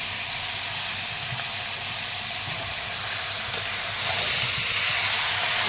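Chicken meat sizzles steadily in a pot over a coal fire as spices go in, a continuous close hiss that swells slightly louder near the end, with no voices.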